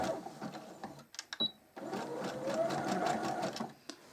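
A sewing machine stitches over abstract fabric appliqué backed with stick fusible interfacing, whirring in short bursts with brief pauses and clicks as the fabric is turned, fairly close and alone.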